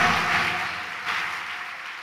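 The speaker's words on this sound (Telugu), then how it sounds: "అందరు ఒక్కసారి చప్పట్లు కొడుతూ సంతోషించండి" A church congregation claps together in a steady, sustained wash of applause that holds throughout before easing slightly.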